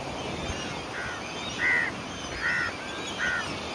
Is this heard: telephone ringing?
no